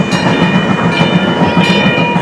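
A train ride heard from aboard: loud continuous rumble with rhythmic clattering of wheels over rails and a faint steady whine, no talking.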